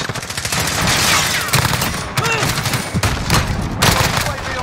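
Dense gunfire in the Modern Warfare video game, with overlapping loud shots and bursts filling the whole stretch, with no break in the firing.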